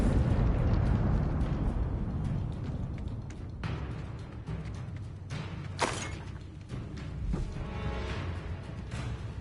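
The Confringo explosion spell in Hogwarts Legacy sets off repeated blasts and pops amid a dense rumble of game effects, with several sharp bursts standing out over a continuous roar.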